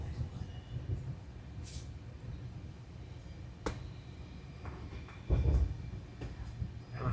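Steady low rumble and rattle of a train moving along tracks past Munroe Island railway station, Kerala, with occasional clanks and a louder jolt near the end; no clear talking.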